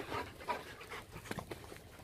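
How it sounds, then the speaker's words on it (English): Dogs making noise somewhere nearby outdoors under a clear sky, heard as several soft, irregular panting and whimpering bursts at moderate distance over quiet background. "Dogs making a noise over there."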